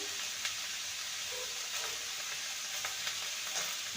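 Chichinga (snake gourd) cooks in a pan with a continuous hissing fry, as a spatula stirs through it in a few soft, scattered scrapes, close and with no talking.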